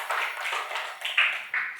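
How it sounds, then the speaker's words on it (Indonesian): Several people clap their hands together in a brief burst of applause, the claps blurring into a steady patter. "tepuk tangan dulu untuk kita semua"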